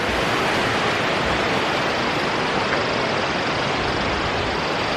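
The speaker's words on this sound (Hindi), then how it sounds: "झरना गिर रहा है ऊपर से बहुत ज़्यादा।" Steady, loud rush of a large waterfall plunging from high above at Tiger Fall in Chakrata, Uttarakhand, a dense unbroken roar of falling water filling the whole clip with no voices.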